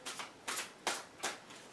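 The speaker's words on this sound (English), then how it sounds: "I'm just going to do a few more quick shuffles for you." Tarot cards are shuffled close up, quietly: four quick riffling swishes in a steady rhythm, each a soft papery burst, with no talk.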